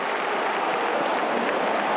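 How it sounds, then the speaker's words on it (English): Football stadium crowd at a Sunderland versus Cardiff City match, a broad, steady roar and murmur of thousands of fans reacting throughout, loud and continuous with no distinct voices standing out. "Crowd will like to see that effort and application from Burstow, who's chasing it again"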